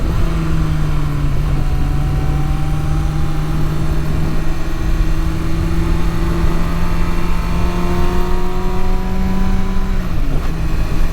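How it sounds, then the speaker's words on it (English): A 2023 Kawasaki Ninja ZX-6R motorcycle cruising a curvy backroad, its engine droning loud and steady with rising pitch, then a brief jolt near the end as a hard gear shift drops the tone. "Oh, that was a hard shift."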